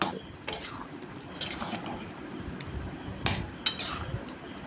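A spoon stirs chana masala with potatoes in a pan, giving faint, scattered scrapes and light clinks at an unhurried pace.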